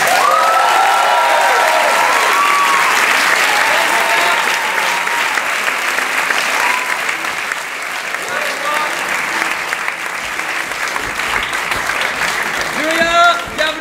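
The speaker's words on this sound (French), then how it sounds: "On va applaudir Julia!" A theatre audience at an improv show at the Théâtre du Gymnase in Paris applauds a volunteer, Julia, with loud, dense, sustained clapping for the whole stretch, a voice speaking over it.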